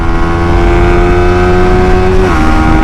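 Yamaha Sniper 155 motorcycle engine pulling hard in third gear, a loud steady close-up drone with its pitch climbing, then a brief dip as the next shift begins, no voices.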